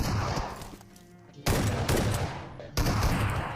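Gunfire from all sides in a battle royale video game, dense bursts of rapid shots in several loud waves with a brief quieter gap between them, fairly close and without speech.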